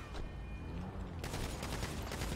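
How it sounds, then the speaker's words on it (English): Bursts of police gunfire in a driving and shooting video game, a dense crackling volley that sounds continuously across the whole stretch at a steady level, with no talk over it. "Now the cops are shooting at him."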